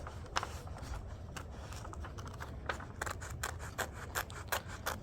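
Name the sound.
scissors cutting paper with small snips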